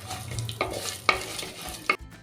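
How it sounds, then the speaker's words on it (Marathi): Whole spices such as star anise, cardamom, cinnamon, cloves and coriander sautéing in a pan with a faint sizzle, while a spoon scrapes and clinks against the metal three times. "चक्रीफूल मसाला वेलची आणि हिरवी वेलची दालचिनी आणि लवंग धने एक दोन मिनटासाठी आपल्याला हे परतवून घ्यायचे आहेत"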